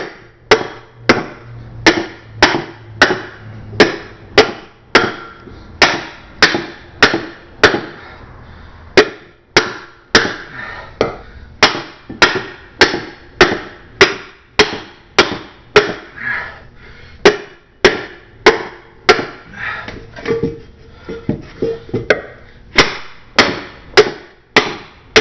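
Steady hammer blows on metal helmet halves being shaped, loud and close, a rhythmic run of sharp ringing strikes about one per second, with no talking.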